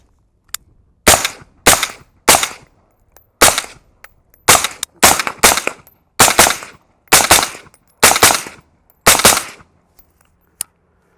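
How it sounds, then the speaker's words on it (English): Suppressed shots from an HK 416 rifle with a 10.5-inch upper fitted with a SureFire 556 suppressor, about a dozen sharp close reports fired singly and in quick pairs with short pauses, no talk. "So go ahead and put some rounds through it."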